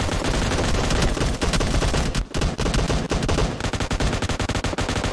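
Assault rifle gunfire in the PUBG video game, rapid automatic bursts of loud, sharp shots in dense strings with a brief gap midway, near and dominant with no speech.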